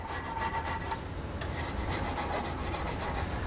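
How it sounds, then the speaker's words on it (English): A tube brush scrubbing inside bolt threads on a car frame during a trailer hitch install, a steady close rasping rub with quick rhythmic strokes, no talking. "I'm just going to use a tube brush to kind of clean out any junk or dirt that may be inside"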